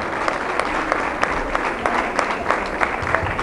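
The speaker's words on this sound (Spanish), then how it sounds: "Un fuerte aplauso." Audience at a charity breakfast award ceremony claps steadily and fairly loudly after placings are announced. Dense, continuous applause with many overlapping hand claps, no clear voices over it.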